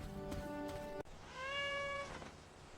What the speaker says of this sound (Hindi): ये म्याऊ म्याऊ की आवाज कहाँ से आ रही है?